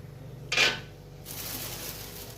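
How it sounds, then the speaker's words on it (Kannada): Peanuts roasting in oil in a large pan for North Karnataka churumuri: a single sharp metallic clink of a utensil against the pan, then a soft, steady sizzle of hot oil close by. "ಈಗ ಎಣ್ಣೆಯಾಗನ ಹುರಿದ್ರು ಬರ್ತೈತೆ ನೋಡ್ರಿ ನಾನು ಹುರಿ ಹುರಿಯಾತನ ನೋಡ್ರಿ"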